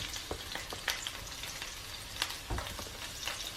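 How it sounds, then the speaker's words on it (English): Chopped regular onions frying in hot oil for chili, a dense continuous sizzle with scattered crackles and pops, close and alone. "Then I will add the chopped onions,"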